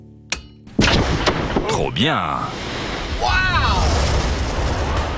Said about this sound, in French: C'est la première explosion de la journée.